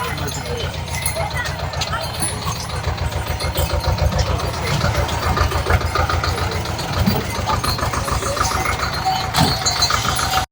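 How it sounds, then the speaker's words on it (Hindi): A tractor engine chugs steadily in a low, rhythmic throb on the mountain trail to Kedarnath, close by and continuous throughout, with no voices over it. "केदारनाथ की चढ़ाई पर ये ट्रैक्टर वापस आ रहा है"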